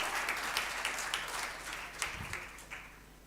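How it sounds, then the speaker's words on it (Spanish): A church congregation applauds, a dense patter of many hands clapping, fairly faint and gradually fading, with a few louder claps standing out. "Denle un aplauso al Señor. Denle un aplauso que Él se merece."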